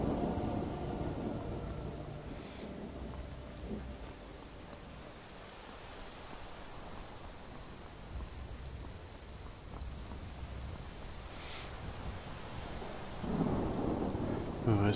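Thunder rumbles in Skyrim over steady rain, a low rolling boom swelling near the end, with occasional sharp cracks and a constant hiss of rainfall throughout.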